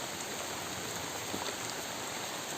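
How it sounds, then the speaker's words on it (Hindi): Heavy rain pours in a jungle, a dense, steady hiss of falling water that stays loud and even across the whole moment, with no voices. "देखिए बारिश ज़बरदस्त हो रही है"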